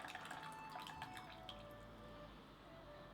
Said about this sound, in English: So I'm now pouring out the third infusion